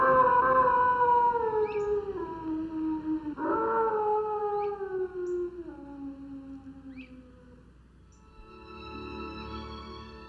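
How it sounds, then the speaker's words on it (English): A red wolf howls alone in the wild, long wavering drawn-out notes that rise, hold and slide down, followed by a fainter second voice joining at the end. "the red wolf's lonely howl in the wild exists only on film"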